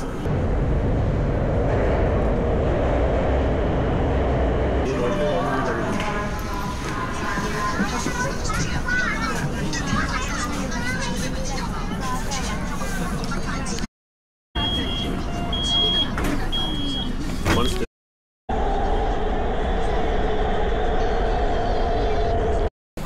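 A Chongqing metro train in a busy station, with loud rumbling motion and rail noise, crowd babble, a few electronic beeps and brief cut silences.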